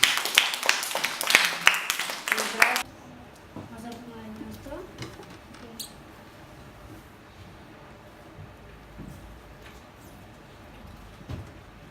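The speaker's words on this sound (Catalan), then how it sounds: "Molt bé, un aplaudiment." An audience of children and adults at a school magic project event breaks into loud, dense clapping that lasts a few seconds and then stops, leaving quiet room noise with faint movement afterward.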